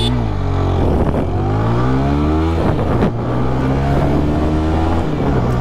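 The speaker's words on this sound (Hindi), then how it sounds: "चलिए यहाँ पर भी इसकी जो एक्सेलरेशन टेस्ट है वो यहाँ पर हम लोग ट्राई करते हैं।" TVS Apache 160 4V motorcycle pulling away hard in sport mode from first gear, its engine note climbing steadily through the revs with gear shifts, loud and close throughout, no talking.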